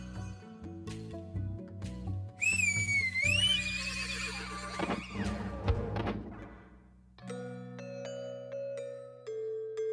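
A cartoon horse gives one loud, rising and falling whinny, set among thumps and bright, plucky cartoon music.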